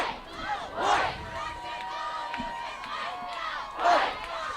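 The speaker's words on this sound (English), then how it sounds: "And the crowd, even though it is cold and it is a struggle out here tonight, they are as energetic as ever" A crowd at a cold nighttime high school football game cheers and shouts, with swelling bursts near the start and again toward the end over a continuous murmur of voices.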